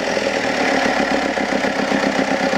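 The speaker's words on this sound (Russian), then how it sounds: "двигатель продолжает работать" Car engine kept running on starting spray after a filter and oil change, a loud steady mid-pitched idle with a slightly uneven pulsing throb, close by and without talk.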